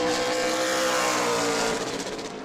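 Super late model race car lapping in qualifying at New Smyrna, a loud sustained engine roar close by that slowly fades as the car passes.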